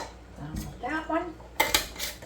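Hot glass canning jars filled with corn clink and knock together in a kitchen, a few sharp close glassy taps with brief murmured speech.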